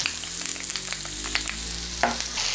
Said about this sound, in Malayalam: ചൂടായ വെളിച്ചെണ്ണയിലേക്ക് വെണ്ടയ്ക്ക ഇടുകയാണ്.